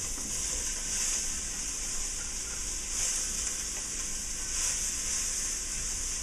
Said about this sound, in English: And we're going to get that all in and saute.